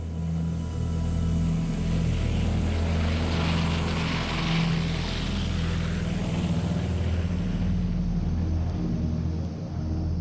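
The propeller engines of a WWII Vickers Wellington bomber drone loud and steady for the whole stretch, a constant low roar with no break.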